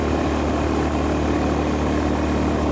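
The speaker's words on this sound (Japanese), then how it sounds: "このね排気音は結構明確に収録できているんじゃないかなと思います" Exhaust of a Honda GB350S motorcycle cruising at about 120 km/h on the Shin-Tomei expressway, a loud, steady droning rumble mixed with wind roar, constant and close throughout.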